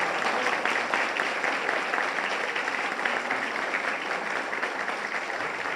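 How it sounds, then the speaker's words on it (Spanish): An audience applauds after a lecture by a Supreme Court minister, producing a steady, even roar of clapping that holds at the same level for several seconds with no voices standing out. "Un aplauso, por favor"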